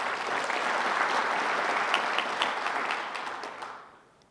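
Applause from a conference audience at a Python opening ceremony, a soft even wash of many hands that holds for several seconds, then fades away near the end.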